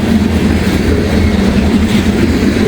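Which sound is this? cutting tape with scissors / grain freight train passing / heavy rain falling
grain freight train passing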